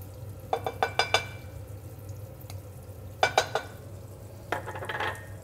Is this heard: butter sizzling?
yes